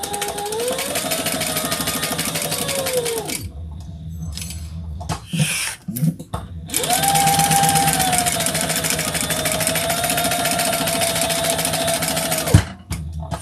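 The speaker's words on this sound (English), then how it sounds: "we're going to stitch around this bottom section just to close it off." A sewing machine runs in two long, steady bursts, stitching closed the bottom section of a sewing project, its motor whirring with a fast regular needle rhythm, with a short pause and a few clicks between runs.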